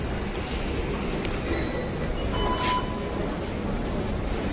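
A metro train on the MG Road line gives off a steady, close rumble with faint metallic squeals and hiss, with no voices.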